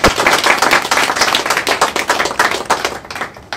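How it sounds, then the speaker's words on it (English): An indoor audience at a reading-year launch applauds award winners with dense, steady clapping that fades slightly toward the end. "Can we give the award winners that have got a Guernsey a round of applause"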